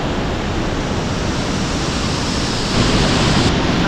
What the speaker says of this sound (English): That waterfall is fierce.